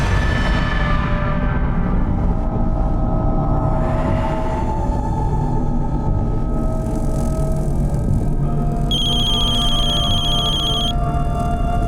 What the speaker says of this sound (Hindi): बेल तो जा रही है लेकिन फोन नहीं उठा रही है